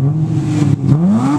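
A 2003 Hyundai Tiburon SE V6 fitted with an aftermarket JDM full exhaust and air intake revs in one short, loud, close burst, its pitch dipping and then climbing.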